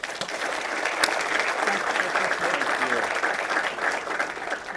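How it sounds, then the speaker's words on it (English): Warm audience applause for the host at a Naval Academy alumni gathering, a dense, steady wash of many hands clapping close and loud throughout, with a few murmuring voices under it. "Please give a warm round of applause to our host."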